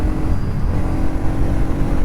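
A 2026 Bajaj Pulsar NS200 BS6 motorcycle engine drones loud and steady while riding, with a constant rumble mixed with wind rush.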